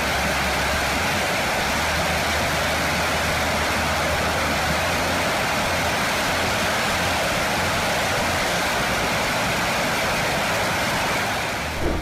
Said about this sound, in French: le rugissement de la turbine est si fort que tu pourrais devenir sourd